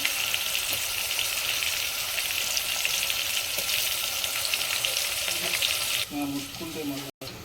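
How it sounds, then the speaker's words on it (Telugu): Onions fry in hot oil for a village-style Telangana mutton curry, a loud steady sizzle that drops away near the end to quieter clatter and a brief pause. "ఉల్లిగడ్డలు మంచిగా ఫ్రై కావాలి."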